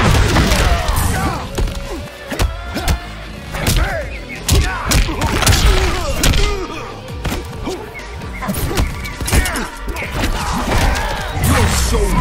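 Punches, kicks and heavy impacts land in rapid succession during a Mortal Kombat 11 fight, with loud thuds, cracks and crashes stacked over game music and effects throughout.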